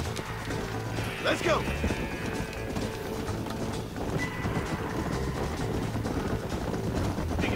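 Horses gallop in the Western video game Red Dead Redemption, hooves clip-clopping in a steady rhythm under a busy game soundscape while a voice speaks briefly.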